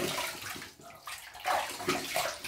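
Tap water runs and splashes steadily while a razor is rinsed after a shave with a GlobalShave ICE safety razor, a close, hissing broadband wash with no talking.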